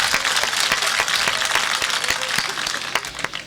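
Audience applause at a mushaira poetry gathering in Nuh, Mewat, a dense, steady clapping from a crowd that runs throughout and thins slightly toward the end, with faint voices mixed in.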